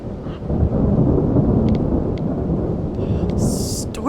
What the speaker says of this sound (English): Storm sound. Love it.